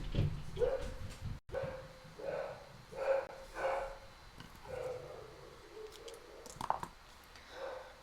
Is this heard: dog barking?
yes